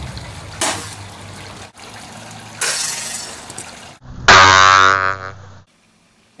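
A Rough Rider Bowie throwing knife blade vibrating after a throw, a sharp buzzing twang with a harsh ringing burst near the end, then silence.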